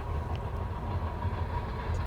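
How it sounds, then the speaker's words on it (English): A train rolls past a roadside camp stop in West Texas, giving a steady, continuous low rumble with faint rail clatter that holds evenly for the whole stretch, with no talking. "You can see the train going by."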